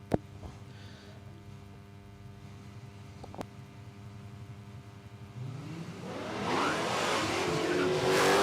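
A Centura drag car at Palmyra Raceway launches off the start line, its engine idling low before a loud rising roar and hard tyre spin build and fill the last few seconds.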